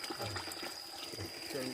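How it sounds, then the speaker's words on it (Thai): Water runs steadily through a rural orchard garden on an evening, a continuous close wash of flow with a faint voice briefly audible beneath it. "น้ำไหลดีครับผม"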